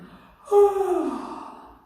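A person fakes a yawn during a singing exercise, a sudden breathy, drawn-out open-mouthed exhale that swells quickly and then slowly fades, heard close and alone.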